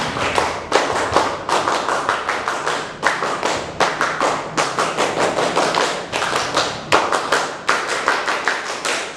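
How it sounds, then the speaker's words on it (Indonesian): Rhythmic group clapping in a Pramuka scout cheer, performed three times in quick patterned bursts of sharp claps, loud and close, with no talk over it. "3 kali tepuk pramuka"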